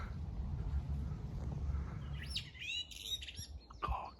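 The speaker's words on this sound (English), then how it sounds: "That is a blackbird." A blackbird sings from a tree at Strumpshaw Fen, with clear fluting phrases breaking in midway over a steady low wind rumble, fairly close and distinct.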